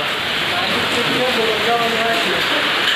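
Heavy rain pours down in a dense, continuous hiss in Jalalpur, Uttar Pradesh, with gusty wind noise mixed in and no pauses.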